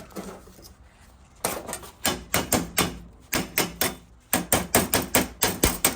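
Slag being chipped off a fresh stick weld with a hammer, loud close metallic strikes in quick rhythmic bursts, about fifteen blows with brief pauses between groups.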